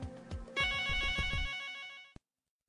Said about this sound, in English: Pick up 500 and dial analog extension 606. 606 rings.